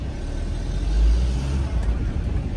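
A car from an insurance auction pulls forward with a low engine rumble that swells briefly as it accelerates, then settles into a steady close drone, with no voices over it.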